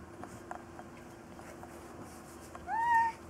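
A single clear, rising cat meow sounds near the end on a farm where golden retriever puppies are playing, following a few seconds of quiet room noise, close and moderately loud.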